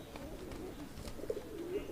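A pair of local Bangladeshi pigeons give soft, low cooing calls, faint and close, over a quiet room background.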